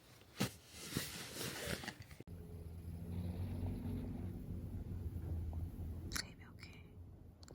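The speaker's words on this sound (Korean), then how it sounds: "새벽에 차를 시동 걸고 움직이는 사람이 있습니다" A car engine idles and rumbles steadily nearby at a quiet campground before dawn, a low continuous drone after some faint rustling.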